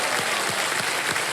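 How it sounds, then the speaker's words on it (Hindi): Studio audience applause on the KBC (Kaun Banega Crorepati) Season 17 quiz show set, a steady, dense wash of clapping filling the whole moment without a break, loud and close. "एक बार जोरदार तालियां बज जाए"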